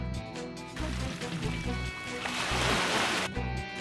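Water being poured into a bottle holding ice cubes, a continuous splashing, gurgling flow with a rising rush toward the end and low background hum.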